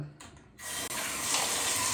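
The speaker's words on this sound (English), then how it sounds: "Turn on the water." Water gushes from a shower tap during a showerhead installation, a steady hiss that starts abruptly after a brief quiet moment and continues evenly.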